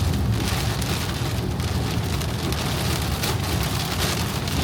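Steady heavy rain drums on a vehicle during a road trip from Delhi toward Spiti Valley, a dense, continuous hiss heard loud and close with no talking.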